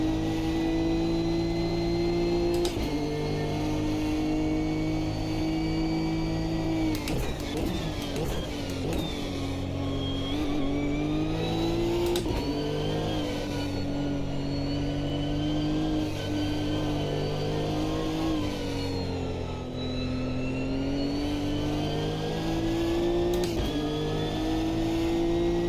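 A race car engine in an Automobilista 2 league race, droning steadily at high revs throughout, its pitch dipping and climbing through gear shifts and corners, loud and close with no talking.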